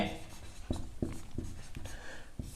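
A pen scratches on paper while a maths problem on a circular frame's radius is worked out, in short repeated strokes about every third of a second, close up, with faint background noise.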